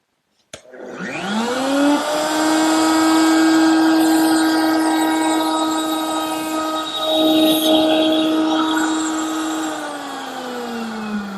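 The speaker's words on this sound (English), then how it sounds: "Here at the router table, I've switched over to a 1/16 inch radius round over bit or beading bit to make this delicate bead" A router table spins a 1/16 inch radius round-over beading bit to cut a delicate bead, a sharp click at startup rising into a steady loud high whine that holds, dips briefly, then winds down at the end.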